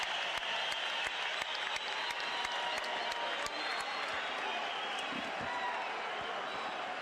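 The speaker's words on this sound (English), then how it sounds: "listen to this crowd as they finish the Mexican national anthem" An excited boxing arena crowd roars with dense, continuous applause and cheering right after the Mexican national anthem, a loud steady wash of sound dotted with sharp individual claps over seven seconds.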